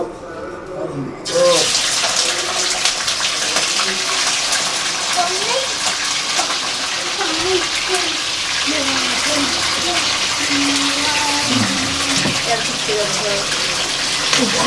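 Chicken meat for tawa chicken hits hot oil with bay leaves in a frying pan and erupts into a loud, continuous sizzle that holds steady, while a person talks over it.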